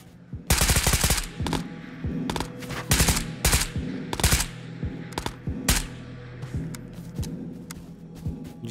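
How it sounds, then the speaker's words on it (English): Video-game gunfire aimed at a power line: loud, close automatic bursts crack out in rapid clusters, then thin into spaced single shots toward the end. "Did you see me shooting the fucking power line?"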